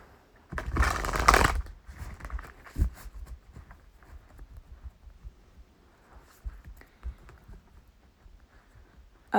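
A tarot card deck shuffled by hand up close, with one brisk, loud riffle burst near the start followed by softer, intermittent rustling and tapping of the cards.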